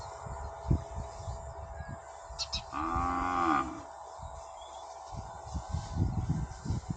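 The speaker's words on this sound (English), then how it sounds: "Here come the cows." A cow lets out one long, loud moo from a herd of cattle approaching a fenced property, heard near and clear against low background rumble and bustle.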